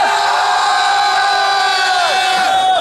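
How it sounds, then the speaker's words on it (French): A large, wild crowd at Japan Expo cheers and roars loudly and continuously, a dense wall of shouting voices that holds steady before easing slightly at the end. "on est à Japan Expo, entouré d'une foule en délire"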